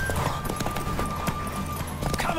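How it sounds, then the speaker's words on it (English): Horses gallop in a horse race in the video game Witcher 3. Hooves clip-clop in a fast, dense rhythm under a faint high tone, with a horse whinnying briefly near the end. "he gets to partake in the art of horse racing, which is a trash gameplay mechanic"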